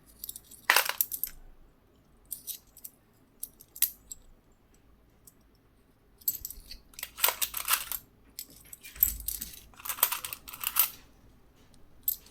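Commemorative Indian two-rupee coins being sorted by hand, giving bursts of bright metallic clinks and jingles that come in irregular clusters with quiet gaps, close and fairly loud, with no talking.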